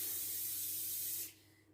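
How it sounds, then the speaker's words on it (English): Cooking spray hisses from an aerosol can onto a baking tin in one steady, close burst lasting over a second before cutting off abruptly, with no talking. "I'm going to spray it with some cooking spray"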